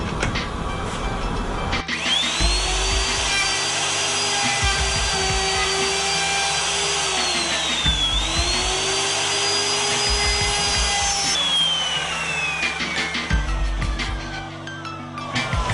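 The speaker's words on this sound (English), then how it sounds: "Now we'll be cutting the pins portion of the joint." A router cuts dovetail pins in wood on a General EZ Pro jig, a loud continuous high whine that dips and rises in pitch as the bit passes through the boards, ending as the motor spins down.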